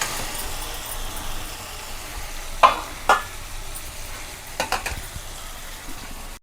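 Tomatoes soften in a pan for cauliflower curry, giving a low steady sizzle with a few sharper clinks and scrapes of stirring midway and toward the end.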